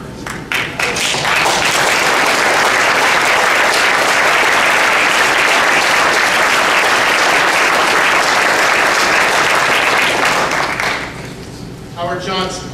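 Loud, sustained applause from a banquet audience at a chamber of commerce awards dinner for recognized guests, dense steady clapping filling the room for about ten seconds before tapering off.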